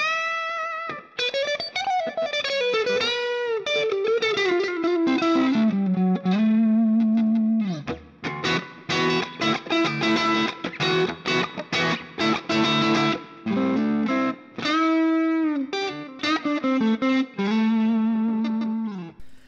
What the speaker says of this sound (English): it's like a slightly like edge of breakup, kind of overdriven clean sound